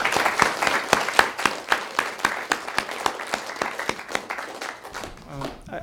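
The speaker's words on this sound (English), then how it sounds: "could we just have another round of applause for tonight's readers?" An audience at a memorial poetry reading applauds the readers with a burst of dense, close clapping that thins into a slower rhythm of individual claps before fading out.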